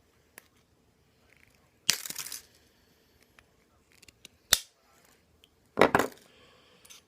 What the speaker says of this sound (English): I'm gonna go ahead and I'm gonna snip these leads off